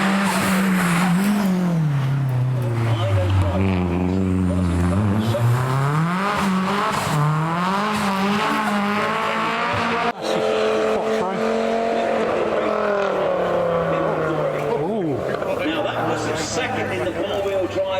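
A rally car at the Prescott speed hill climb accelerates through a bend, its engine note rising and falling with gear changes and a brief tyre squeal, loud and continuous beneath a commentator talking throughout.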